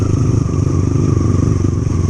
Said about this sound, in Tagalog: di makatakbo ng mabilis si Jonas kasi flat yung motor niya guys